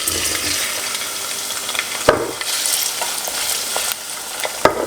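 Garlic and white onion frying in a pan, a loud close sizzle with stirring scrapes and two sharp knocks of a utensil against the pan.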